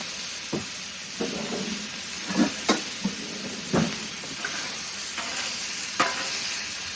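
Steady sizzling of steak on a hot Blackstone griddle with intermittent metallic scraping and chopping taps from a spatula, no talking.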